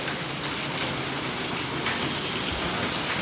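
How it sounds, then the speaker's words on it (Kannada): Heavy rain pours steadily outdoors, a dense, even hiss of drops striking surfaces with no break, loud and close throughout. "ಫುಲ್ಲು ಮಳೆ ಅಂದರೆ ಮಳೆ."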